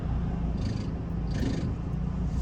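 A steady, loud low-pitched van engine rumble with a rough, rattling texture from a fault, warmed up, plus two brief hissy bursts over it.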